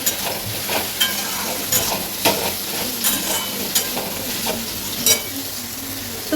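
Bitter gourd slices fry in a hot pan with a steady sizzle, broken by sharp scraping stirs of a spatula about once a second, close and clear with no talking.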